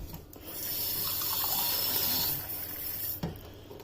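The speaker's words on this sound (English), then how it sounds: "So first of all, just fill that with water" Tap water runs into a container being filled for begonia cuttings: a steady, close rushing pour that swells for about two seconds, then eases off, with a brief clunk near the end and no talking.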